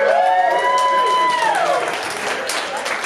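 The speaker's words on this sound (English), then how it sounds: "She got a bigger round of applause than I did." Audience applauds a comedian's girlfriend at a stand-up comedy show, a steady wash of clapping from a crowd with a few cheers, full and close for about three seconds.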